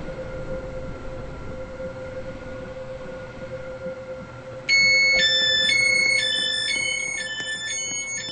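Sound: train arriving at platform in video game

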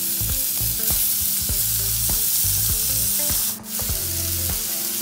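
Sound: onion frying with garlic

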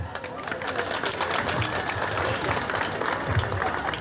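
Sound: audience applause

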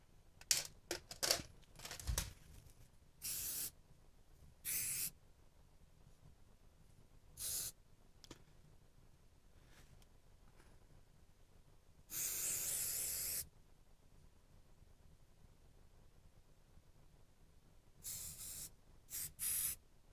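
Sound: spray bottle spraying hair during haircut

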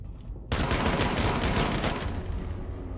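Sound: gunfire in the video game Rainbow Six Siege

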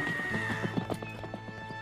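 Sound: horse neighing and hooves clip-clopping

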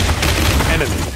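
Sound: big guns firing in the video game Paladins

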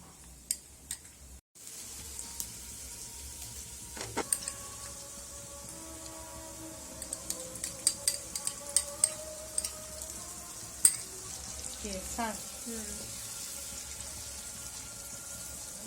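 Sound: ginger garlic paste being stir-fried in a pan

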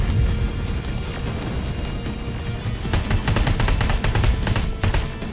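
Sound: weapon gunfire in Terminator: Resistance video game

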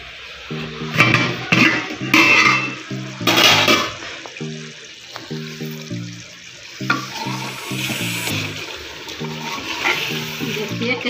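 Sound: mutton frying in a pan

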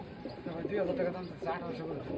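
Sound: pigeons cooing

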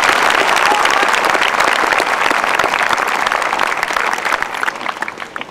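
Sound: audience applause at a high school graduation

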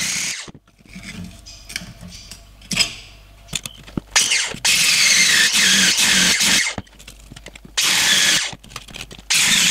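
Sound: peeling back old spot-welded floor metal

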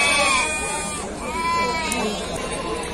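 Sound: sheep bleating at livestock market

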